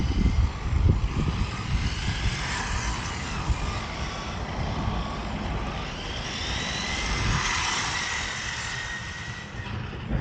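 The engine of a Hobao VTE2 RC car revs hard at full throttle with the wheels slightly turned, a loud continuous high-pitched buzz that swells and eases without pause for ten seconds.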